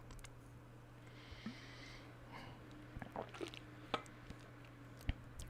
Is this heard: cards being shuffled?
no